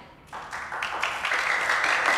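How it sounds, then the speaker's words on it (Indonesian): Applause from a classroom of students breaks out after a brief quiet moment and keeps going as a steady, moderately close patter of clapping hands. "Udah, nggak usah pakai tepuk tangan."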